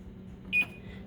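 A kitchen timer on a farmhouse range gives a single short, faint electronic beep while it is being set, over a low room hum with no talk.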